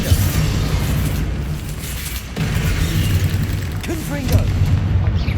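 Confringo blasting spell explosions from the video game Hogwarts Legacy, heard as loud, heavy booms and deep rumbling that roll on nearly without a break, with a brief dip midway and faint vocal fragments on top.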